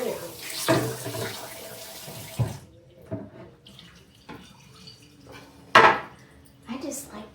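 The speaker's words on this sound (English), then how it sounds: "I just like to wash my meat off because it sits in those containers" Fresh cod fillets are rinsed under a running kitchen tap, with water splashing and gurgling into the sink in uneven spurts, mixed with clattering dishes and a clink of utensils, close by and fairly quiet.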